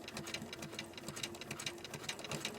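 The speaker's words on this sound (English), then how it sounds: "So I'm going to go ahead and start sewing." A sewing machine stitches fabric in a steady, fast rapid-fire whir of needle strokes, close and continuous on its own.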